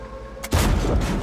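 A tank cannon in World of Tanks fires a single loud, close boom after a short quiet engine hum, followed by a ringing rumble.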